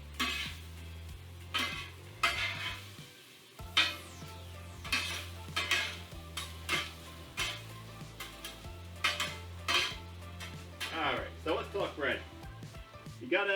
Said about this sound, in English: Now I'm going to pull my onions into it and cook it all together.